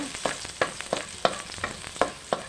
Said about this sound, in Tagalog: Bawang. Igisa muna natin.